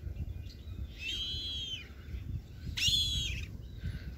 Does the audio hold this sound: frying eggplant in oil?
no